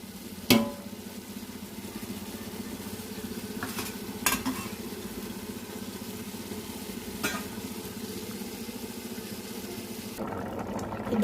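Garam masala and biryani masala are stirred in a pot for dum biryani, giving a steady close sizzle with a few sharp spoon scrapes against the pot, and no talking.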